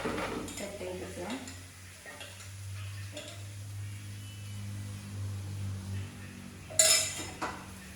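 Steady frying sizzle of raw-rice (pachari) dosa cooking on a pan, with utensil scrapes and a clatter of metal near the end, close and continuous.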